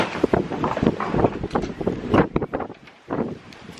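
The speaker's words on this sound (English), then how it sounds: "It's so windy." Strong gusting wind buffets the microphone, a loud continuous rumbling roar that swells and dips, briefly easing near the end.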